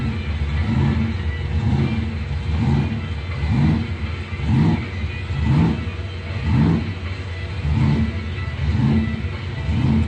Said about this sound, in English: Bill Hikus from Beulah, 1980 Chevy Monza. He's the owner of Hikus Body Shop over in Honor. 468 big block, blowing Chevy.